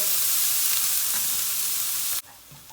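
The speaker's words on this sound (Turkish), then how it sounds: "Hemen soğanı kavurma işlemine başlarız." Onion with garlic frying in a hot pan, a dense loud sizzling hiss that cuts off abruptly near the end, leaving a quieter low hiss.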